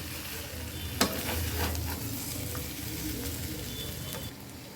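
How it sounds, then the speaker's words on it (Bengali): Hot water poured into a sautéed country chicken curry in a pan, with a continuous sizzling rush and a sharp clatter early on, fading slightly toward the end, no voices. "জল দিয়ে দিচ্ছি"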